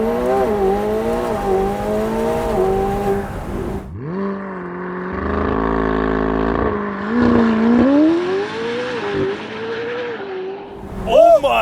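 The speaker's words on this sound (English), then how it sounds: "2024 McLaren 750S. Spider with launch control." A 2024 McLaren 750S Spider with a 4-liter twin-turbo V8 does a launch-control start, the engine revving up through rising gear pulls with sharp shifts, loud and close, while a person talks over it.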